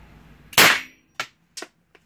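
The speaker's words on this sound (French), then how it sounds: "Et je vais tirer là-bas, dans les cartons où il y a 4 épaisseurs." A 9mm blank-firing alarm pistol fires a rubber ball into four layers of cardboard about ten meters away: one loud, sharp crack followed by a few lighter clicks and clacks of the mechanism and the ejected casing.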